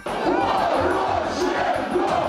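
A large crowd outside Zhuliany airport at a political rally roars and shouts together in a dense, continuous wall of voices, loud and close.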